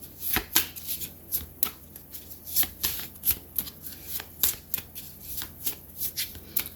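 Tarot cards shuffled by hand, a close series of crisp riffling slaps and flutters in an uneven rhythm, about a dozen bursts with no talking.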